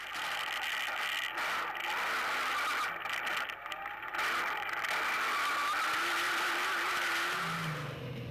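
Rally trucks race in a pair along a narrow sugarcane-lined course at the Nkomazi 400, engines droning steadily and loud with tyre and gravel noise throughout, nobody speaking.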